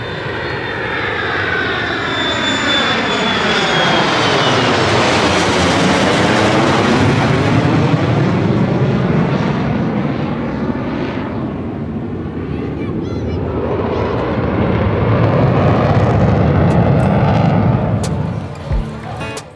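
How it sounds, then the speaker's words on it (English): Military fighter jets such as the F-35 and F-22 pass at an air show at Oshkosh 2025 with a loud, sustained engine roar whose pitch sweeps and shifts as they fly by, building again toward the end. "After the performance by the F-35 and the F-22, the rest of the air show started."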